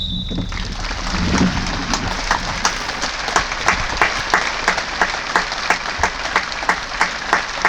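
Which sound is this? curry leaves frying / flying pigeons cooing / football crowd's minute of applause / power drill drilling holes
football crowd's minute of applause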